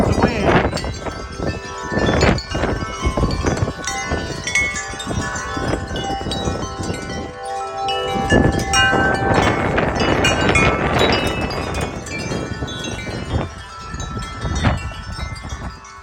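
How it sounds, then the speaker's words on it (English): Strong gusting wind roars across an outdoor microphone on an extremely windy day, a loud, broadband rush that swells and eases continuously throughout, with faint knocks and rattles beneath and no clear talk. "here comes the wind"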